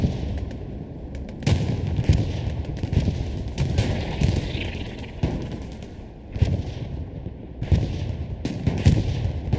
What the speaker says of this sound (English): Panzer IV is engaging the Sherman right here in a tank fight.